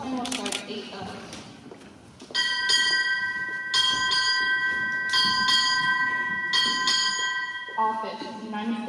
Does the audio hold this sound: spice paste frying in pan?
no